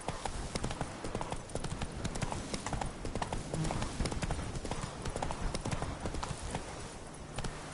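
Roach the horse's hooves in Witcher 3: Blood and Wine clip-clop in a steady, close rhythm throughout, with other game sounds mixed in underneath.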